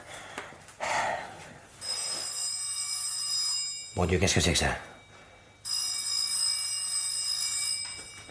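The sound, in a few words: telephone bell ringing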